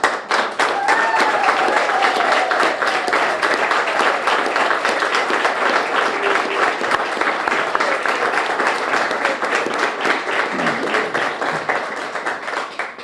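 Sustained applause from an audience at a police swearing-in ceremony in New Bedford, welcoming four newly sworn officers; steady, dense clapping fills the room for about thirteen seconds with a few faint voices mixed in.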